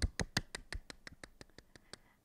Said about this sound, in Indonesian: Tepuk tangan yang meriah buat Tuhan Yesus.